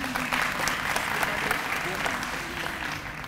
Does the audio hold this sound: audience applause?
yes